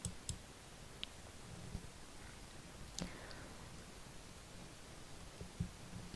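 Several faint, sharp computer mouse clicks on an order button, spaced irregularly over quiet background hiss.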